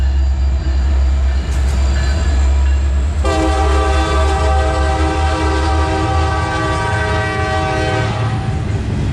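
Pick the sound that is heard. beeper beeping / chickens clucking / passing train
passing train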